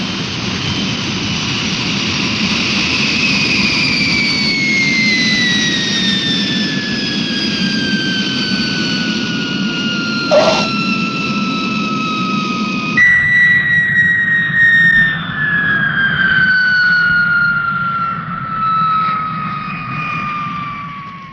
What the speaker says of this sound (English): Man, that's what I call an aircraft.